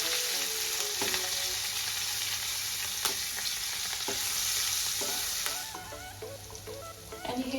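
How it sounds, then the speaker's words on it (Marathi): Asafoetida sautéed in hot oil for kadhi gives a loud, continuous sizzle and crackle, with a few utensil knocks against the pan before it settles quieter. "अर्धा चमचा हिंग, हे तेलात थोडंसं परतून घ्यायचं"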